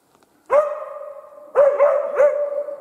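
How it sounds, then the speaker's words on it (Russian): A hunting dog in an autumn forest barks at a squirrel: three loud, ringing barks, each drawn out into a sustained high yelp, spaced about a second apart and close by, with no talk over them. "Белку лает, ребят."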